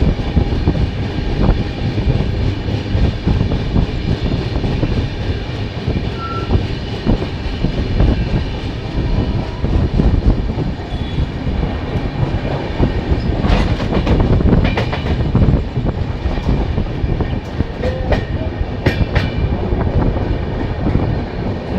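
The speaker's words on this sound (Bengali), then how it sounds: "রাত প্রায় 8টার সময় ট্রেন দালখোলা স্টেশন এন্টার করছে।" Uttarbanga Express rolling into Dalkhola station at night after rain, a loud steady rumble of wheels and carriages with rhythmic clickety-clack and occasional sharper clanks, continuous throughout without voices.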